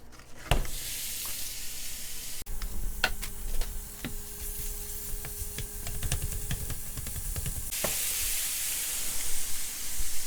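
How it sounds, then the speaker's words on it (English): One pound of lean ground pork sizzles in a hot non-stick pan with no oil, a bright continuous hiss broken by sharp crackles and scraping stirs, close and loud, with no talking. "Now we've got a nice hot pan. We can throw the lean ground pork in"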